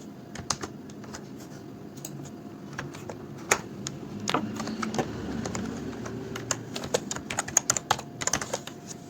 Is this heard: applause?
no